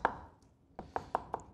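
A knife finely chops garlic on a board, one sharp tap, a pause, then a run of evenly spaced crisp chops, close and clear.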